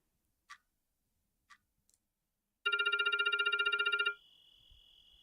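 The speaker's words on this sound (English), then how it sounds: "where the phone had started ringing." In a visual novel game, an old-fashioned telephone bell rings in one rapid continuous trill for about a second and a half, loud and clear after a few soft clicks, then gives way to a steady tone.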